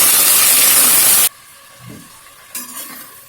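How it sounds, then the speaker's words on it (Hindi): Chopped onions added to hot oil with half a spoon of cumin, for spicy chhole, give a loud steady sizzle that cuts off abruptly, followed by quieter stirring and faint frying. "4 मीडियम साइज के कटे हुए प्याज, प्याज डाल के इसे थोड़ी देर भून लेते हैं"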